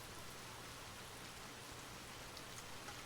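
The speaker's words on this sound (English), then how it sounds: "the gentle rain continues to fall" Gentle rain falls steadily, a soft, even hiss of drops on surfaces, continuous and unchanging with no thunder or voices.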